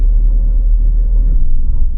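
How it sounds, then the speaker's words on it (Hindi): A car drives along a dark road at night, heard as a loud, steady low engine and road rumble from inside the vehicle, with no other distinct sounds. "गाड़ी में ही जा रहे हैं क्योंकि अंधेरा बहुत है"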